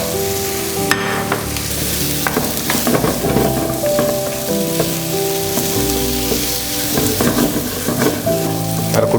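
Fried idli pieces are stirred into cooking tomato in a hot pan, giving a continuous close sizzle with repeated scraping stirs, while music plays in the background.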